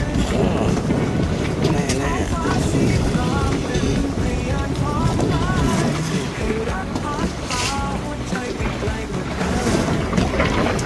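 Strong, steady wind roars across the microphone over rushing water and waves against a fishing boat hull at sea off Samae San, Thailand, loud and continuous throughout.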